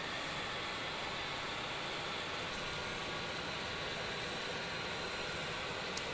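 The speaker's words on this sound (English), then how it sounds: "they start the number three engine" A KC-135 tanker's jet engine, the number three engine, spins up during start: a steady, broadband roar with a faint high whine, constant and fairly distant throughout, with no voices.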